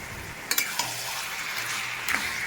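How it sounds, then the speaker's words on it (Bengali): A pre-fried hilsa fish head drops into a pan of kochu shak (taro leaves), setting off a steady sizzle. A few sharp clinks of a utensil against the pan punctuate the frying. "ভেজে রাখা ইলিশ মাছের মাথাটা এবার দিয়ে দেবো।"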